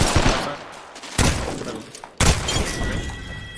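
Bursts of enemy gunfire in a shooter video game, loud dense volleys with sharp onsets that recur three times in quick succession, close and harsh, with no talking.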